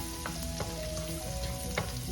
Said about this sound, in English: Start sauteing our garlic.